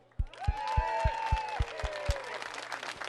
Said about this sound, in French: Alors, c'est à vous autres qu'il faut applaudir, puis applaudissez-vous.